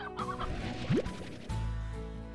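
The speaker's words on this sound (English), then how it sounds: "Oh, there's another chicken." Clucking from a chicken in the video game Slime Rancher, heard over a steady game soundscape with a quick rising tone and a soft thud partway through.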